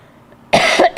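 A single person's cough, a few sharp close bursts after a brief near-silent pause.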